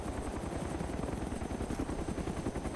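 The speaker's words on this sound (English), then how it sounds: "We got another heli, sounds like, or is that just... I hear it, coming from the southeast." A helicopter in the video game Arma 2 DayZ approaches with a loud, steady rotor thumping and engine roar that fills the whole stretch, with no voices.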